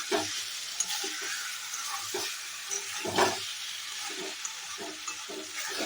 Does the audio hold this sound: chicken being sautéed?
yes